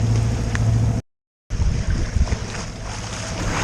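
A sailboat motors under engine with a steady low drone mixed with wind and water rush, continuous apart from a brief cut to silence.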